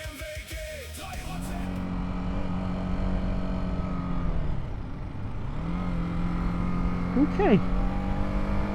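A BMW G 310 R single-cylinder motorcycle engine hums and revs close by, rising and holding a steady buzzing tone after a brief dip; a voice speaks a single word near the start and a short chirp sounds near the end.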